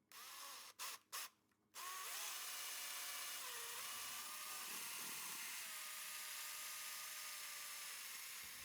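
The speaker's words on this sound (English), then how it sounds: "So now it's time to drill into the pumpkins, right?" A power drill whirs continuously at close range, starting with a few short bursts before settling into a long, steady high-pitched drilling sound as it bores into a pumpkin.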